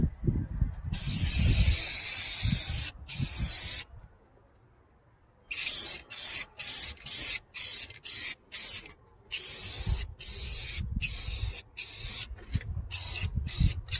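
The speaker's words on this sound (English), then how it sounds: "I kind of enjoy rattle canning" A rattle can of spray paint hisses onto old house shingles outdoors in repeated loud bursts, first a few long sprays, then a run of quick short puffs with brief gaps between them.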